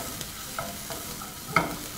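Beef stroganoff being tossed in a hot pan sizzles steadily, with soft scrapes and a sharper clack of food landing midway, no voices.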